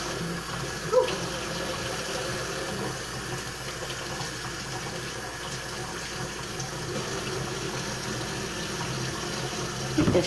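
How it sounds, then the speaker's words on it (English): Tap water runs steadily into a kitchen sink while potatoes are washed, a continuous close hiss of flowing water with a couple of brief louder splashes near the start and end. "I was trying to get the potatoes washed off"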